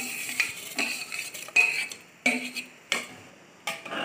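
A spoon stirring rice into a simmering tomato mixture in a pot for tomato rice, with a series of separate scraping and clinking strokes against the pot at an irregular pace, close and fairly quiet, no talking.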